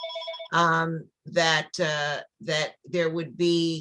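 A telephone rings in a room during a community town hall on children's COVID-19 vaccines, its steady two-tone electronic ring opening the clip before a person starts talking over the pauses.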